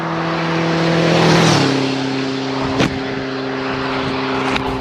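A Suzuki GSX 1400 16-valve inline-four motorcycle engine idles and revs, its steady harmonic drone rising briefly then settling, with a couple of sharp clicks near the end.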